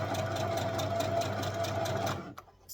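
A sewing machine runs in a fast, steady whirring stitch through fabric for about two seconds, close and moderately loud, then stops with a couple of soft mechanical clicks.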